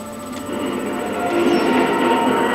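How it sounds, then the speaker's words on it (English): Rattling, shaking noise from high winds in a windswept area of the video game Metroid Prime 3: Corruption, a steady rumbling, clattering wash with faint tonal whines that swells slightly louder toward the end. "you'll hear stuff shaking. I think that's just supposed to be because the winds in this place are really high."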